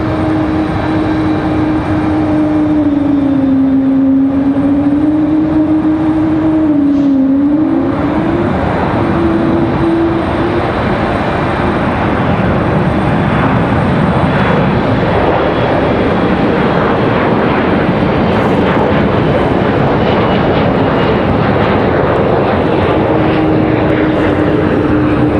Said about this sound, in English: This A220 pilot laying into those Pratt & Whitneys.